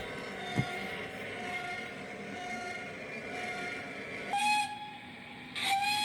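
AWVR T10 diesel locomotive hauling three blue containers out of a siding, a steady rumbling drone with a whistle sounding in two clear blasts, the second cut short.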